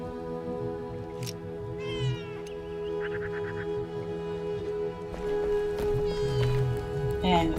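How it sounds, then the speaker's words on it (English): Cats meow several times in a video game, short separate calls at moderate distance scattered over a low steady background, with someone talking over them. "And you can hear the kitty cats meowing."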